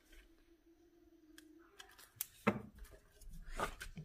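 Scissors trimming paper while masking a stamp, close and quiet: a faint hum, then a few crisp snips and a louder rustling cut near the end, with no talk.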